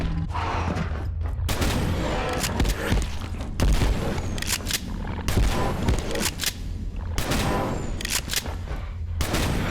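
Rapid gunfire from a weapon in the video game Abiotic Factor, loud and dense bursts of shots and booms repeating throughout with brief gaps, no talking over it.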